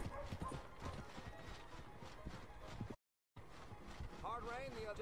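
Horse hooves clip-clop in a quick, steady rhythm while riding in the Red Dead Online video game. The hoofbeats are faint and mixed with voices.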